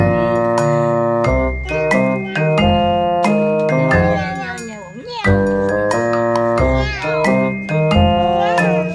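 Several loud, drawn-out meows from a cat nearby, repeating with short pauses, under some background chatter.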